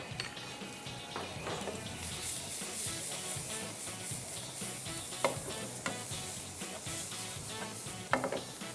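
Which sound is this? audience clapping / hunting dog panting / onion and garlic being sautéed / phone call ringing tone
onion and garlic being sautéed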